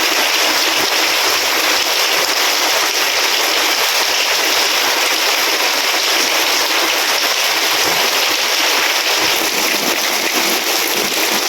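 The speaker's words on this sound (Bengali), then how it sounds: "কি সুন্দর বৃষ্টি করতেছে" Rain falls steadily over a village, a loud broadband rush of drops striking roofs and ground that holds unchanged from start to finish.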